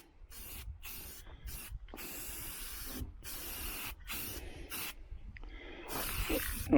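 Aerosol spray cans of paint hiss in a string of bursts of varying length, separated by short silent pauses, close and loud with no talking.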